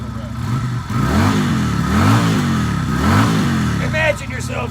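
A 250 cc SM Sport V16 motorcycle engine is revved up and down several times close by, each rev rising and falling in pitch over a rough, loud running note.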